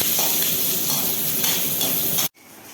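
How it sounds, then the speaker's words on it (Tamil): Chopped large onion and curry leaves sauté in hot oil with popped mustard seeds for a tomato kurma, giving a loud, steady, dense sizzle that runs unbroken and then cuts off abruptly near the end. "கடுகு பொரிஞ்சோடனே வெங்காயம், ஒரு பெரிய வெங்காயம், கொஞ்சம் கருவேப்பிலை சேர்த்துக்குங்க."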